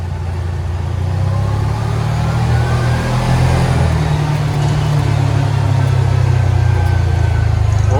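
A Kubota Sidekick RTV XG850 utility vehicle carrying a heavy load drives in low gear, its engine producing a loud, steady, close-up drone that holds throughout, with no talk.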